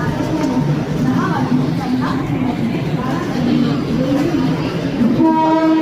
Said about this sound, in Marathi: 8 नंबर ट्रेन आली.